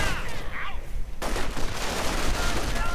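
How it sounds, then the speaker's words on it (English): Video game battle with artillery and high explosive munitions exchanged: dense, continuous booms and rattling gunfire crowd together, loud and close, with a sharp burst of blasts about midway. "Lots of artillery now being exchanged. Lots of high munition explosives."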